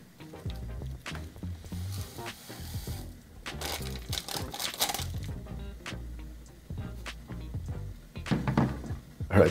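Crinkly foil packet of 3-in-1 instant coffee with freeze-dried coffee, sugar and creamer being torn and handled up close, a run of sharp crackles and rustles with no talking.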